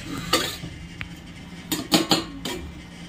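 A metal lid goes onto a pot of rohu fish curry with pointed gourd and potatoes, several sharp clanks and scrapes spread over a few seconds, with a faint sizzle from the pot beneath.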